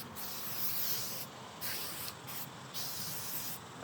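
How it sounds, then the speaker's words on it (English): Back to Black plastic restorer sprayed onto black plastic trim of a Cummins-powered truck, several short hissing bursts of varying length from a spray bottle close up, with brief pauses between them. "Spray it over."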